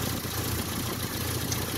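A 1986 Nissan D21 pickup engine idles steadily after its spark plug wires were connected to the distributor, a continuous low rumble at close range with no talk over it.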